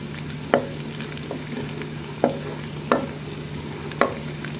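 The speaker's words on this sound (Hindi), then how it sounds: "लहसुन के जवे डालने के बाद हमने इसको थोड़ा सा घी में सौते कर लेना है" Garlic sautéing in ghee gives a low, steady sizzle, with occasional scraping taps from stirring every second or so.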